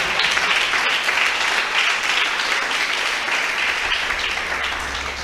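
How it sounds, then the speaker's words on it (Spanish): A congregation at a church testimony service applauds in a steady, dense wash of clapping that holds at full strength for the whole stretch and eases only slightly near the end. "Dele fuerte esa ofrenda de palmas al Señor"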